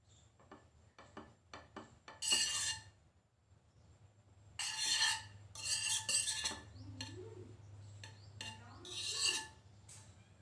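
A pan being greased with butter while making pizza buns, heard as soft scraping, rubbing and light metallic clinks in uneven bursts, close and fairly quiet.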